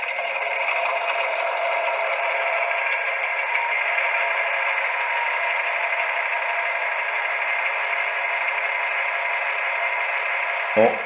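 An O-scale Modelbex BB 63593 model diesel locomotive runs its engine-start sound, a steady, buzzy electronic drone that stays flat and even for about eleven seconds and ends with a short thump. No one speaks.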